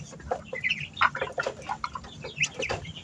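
Male breeding chicken clucking repeatedly in a farm setting, with a string of short, mid-pitched clucks and calls over steady low background noise and no talk.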